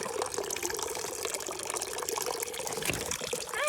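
Water running from an outdoor tap on a cold homestead, a fairly loud, continuous splashing gush close by that changes a little near the end, with no talk.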